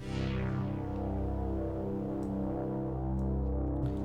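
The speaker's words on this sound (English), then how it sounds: "The patch is called Indie Gamer with some distortion" A single sustained note from a Europa software synth on the distorted Indie Gamer patch, buzzy and harmonically rich, held steadily at even loudness for about four seconds with no one speaking.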